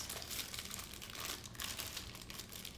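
Plastic packaging from a baby first aid kit crinkles steadily and close up during unboxing, a continuous rustling crackle with no voices over it.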